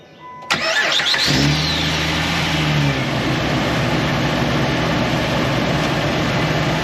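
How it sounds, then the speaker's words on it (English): A 2006 Jeep TJ Rubicon engine cranks and catches with a sharp start, then settles into a steady, close, loud running drone with no voices. "So next step will be to take it out for a quick test drive"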